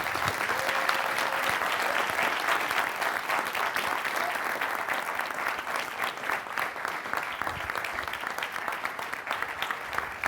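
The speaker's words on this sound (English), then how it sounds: "How about a big round of applause for Adam?" Audience applause for ESPN NFL insider Adam Schefter at the close of a live talk: a steady, full wash of clapping from a large crowd, lasting throughout at even strength.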